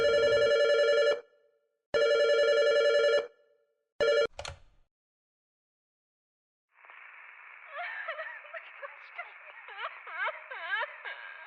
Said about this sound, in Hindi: मैं फोन बज रहा है।